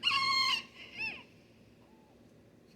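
A backyard rooster crows once, close and loud, its harsh drawn-out call breaking off into a softer trailing note, then quiet farmyard background with a faint distant cluck.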